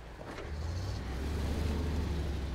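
A heavy truck engine labors and strains under load in Snowrunner while stuck on hilly terrain, a steady low droning rumble that holds throughout without talk.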